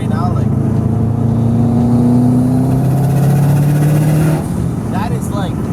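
Subaru WRX hatchback engine revving at half throttle, close and loud, with a sustained rising drone that drops off near the end, under continuous talking.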